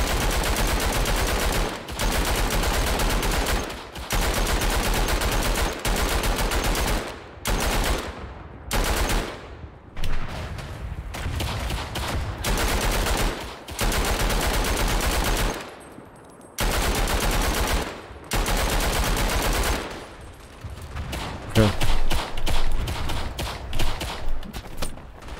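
Battlefield 1 Verdun gameplay with light machine gun fire on defense, long loud bursts of rapid automatic shots broken by short pauses, with a few sharper single blasts near the end.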